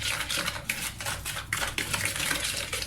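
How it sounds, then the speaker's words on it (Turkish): Metal spoon stirring sugar into cooled oil in a bowl for brown sugar cookie dough, rapid close scraping and clinking in an uneven rhythm throughout. "Tahta kaşığımla şey, metal kaşıkla karıştırıyorum."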